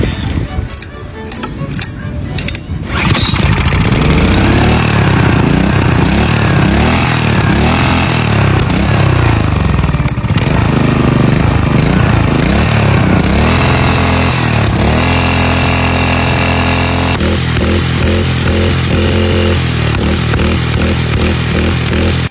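A small go-kart engine sputters, catches and revs up, then runs loudly and steadily with rough, rising and falling throttle bursts; some voices may be mixed underneath.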